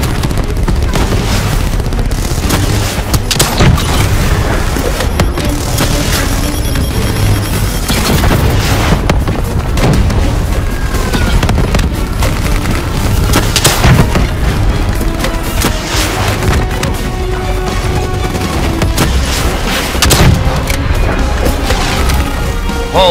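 Bombs exploding during a Call of Duty Black Ops 3 battle, heavy booms and crackling blasts rolling continuously through a dense wall of combat noise with gunfire, loud and sustained throughout.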